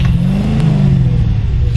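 A Lamborghini of almost 600 horsepower, with peak power at 7300 rpm, revs hard in the ToCA Race Driver 3 racing game, a loud, steady, close engine drone throughout with no talk.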